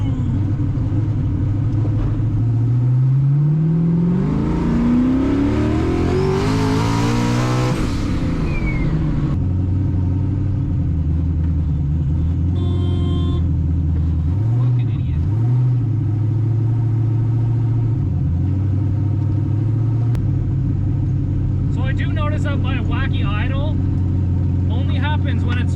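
A car engine on a test drive pulls up strongly under boost, its note rising for several seconds before settling into a steady, rumbling cruise drone, with occasional voices.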